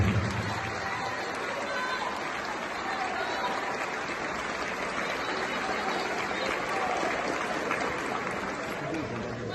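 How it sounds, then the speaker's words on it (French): A large audience at a university lecture gives sustained applause, a dense, even wash of clapping mixed with crowd murmur that holds steady for nearly ten seconds. "Applaudissez-vous encore une fois, s'il vous plaît."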